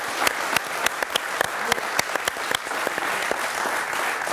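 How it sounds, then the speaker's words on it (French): Audience applauds steadily for the guest, a leader of a Lyon football supporters' group, with dense clapping and sharper individual claps standing out close by throughout. "On peut applaudir Nico"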